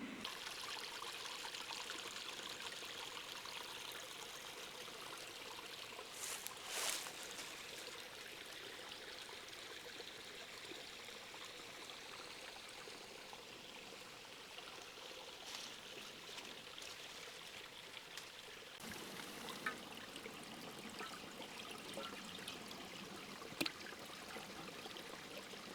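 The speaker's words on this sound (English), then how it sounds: "we're going to walk down here to the creek and we're going to get some water." Creek water flows steadily through the woods, a soft, continuous trickle and babble heard alone at low volume with no talking.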